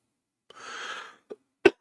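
A single short cough, close and fairly quiet, preceded by a brief breathy exhale and a small throat sound during a live stream, with no talking.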